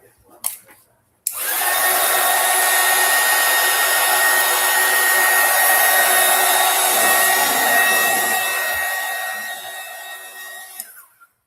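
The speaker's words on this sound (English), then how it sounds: "Let's hit it with the heat gun one more time." A heat gun blows hot air over a handmade faith-themed craft project, starting abruptly with a click and holding a steady, loud whirring hiss with a high tonal whine for about ten seconds before switching off.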